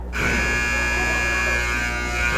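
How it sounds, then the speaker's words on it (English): A sustained electronic buzzer blares at halftime of a basketball game, starting abruptly and holding a steady, loud, harsh buzzing tone for over two seconds without a break. "Brian Hernandez with the buzzer beater from the free point."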